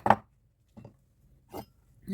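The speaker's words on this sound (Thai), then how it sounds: "ทำการหั่นค่ะแล้วก็หั่นพอดีคำนะคะ" A knife chops vegetables into bite-size pieces on a cutting board in a Korean-style home kitchen, giving a few sparse, distinct knocks separated by quiet gaps, close and fairly clear.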